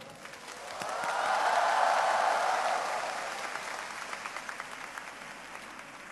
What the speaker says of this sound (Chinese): 让我们以热烈的掌声欢迎